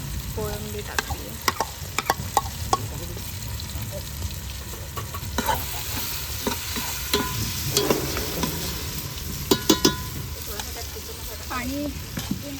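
Marinated prawns sizzle in a pan with cooked tomatoes, stirred repeatedly so sharp scraping clicks and clatters break over a steady, close frying hiss throughout.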